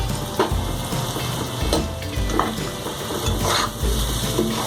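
Potatoes deep-frying in plenty of oil, with curry leaves and green chillies, give a steady close sizzle broken by the soft scrape and knock of a spoon stirring at irregular intervals.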